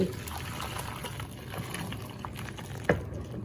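Turkey osso buco sauce is poured from the pan over the meat, producing a steady close liquid trickle and splash with a soft clatter near the end.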